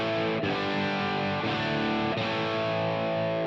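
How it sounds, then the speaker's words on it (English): An electric guitar runs through a Helix Native high-gain amp model with power-amp distortion, playing a few sustained, saturated chords in succession with clear attacks, alone and fairly quiet. "Just something there in that power amp distortion that bringing down the master helps."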